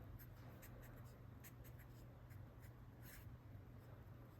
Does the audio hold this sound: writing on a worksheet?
yes